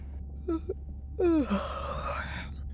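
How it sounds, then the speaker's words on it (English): A character in the video game Beyond Blue yawns: a short breathy intake, then a longer drawn-out vocal yawn that trails into a sigh, close and fairly quiet over a low hum. "Was that a yawn?"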